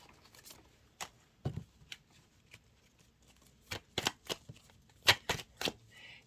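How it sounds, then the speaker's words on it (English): A tarot deck is shuffled in sparse, quiet riffles and taps, irregular clusters of sharp card snaps close by. "So I'm going to keep shuffling because they haven't put the deck down"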